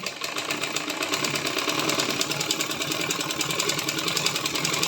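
A sewing machine runs a half-inch seam on fabric for panties, a fast continuous mechanical chatter of stitching that holds close and steady throughout.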